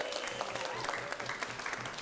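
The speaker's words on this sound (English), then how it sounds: "Give yourselves a big round of applause." An audience at a late-night comedy talk show applauds in a continuous, even wash of clapping from a room full of people, moderately loud, with faint voices underneath.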